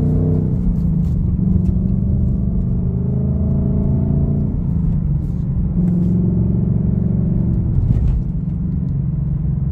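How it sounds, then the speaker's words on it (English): A car drives over rough, bumpy back roads in lush green countryside, its engine and road rumble steady and loud throughout, with surging tonal shifts from the engine. "So this car here is really going to start bouncing me around because the roads are so lousy."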